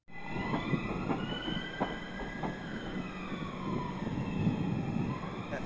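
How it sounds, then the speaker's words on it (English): A Thameslink train runs along the railway at close range, with rumbling wheels, a few sharp clacks over rail joints and rising and falling electric whine, steady throughout with no voices. "So we're going to get the Thameslink service that will take you down into the core"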